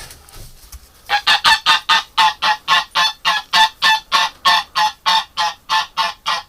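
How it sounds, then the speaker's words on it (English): A goose honks loudly and repeatedly in a steady, evenly spaced rhythm, close by, after a quiet first second with no talking. "Come on, Goose."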